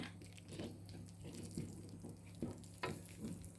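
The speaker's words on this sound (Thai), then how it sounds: "พริกแกงของเราก็จะผัดไปเรื่อยๆ จ้า" Panang curry paste is stir-fried in a pan, giving a soft, steady sizzle with scraping stir strokes at irregular intervals, fairly quiet and with no talking.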